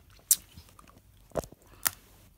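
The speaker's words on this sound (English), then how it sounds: "All of them have that crunch" Caramel chocolate candy crunches between the teeth, three sharp close bites with soft chewing in between and no talking.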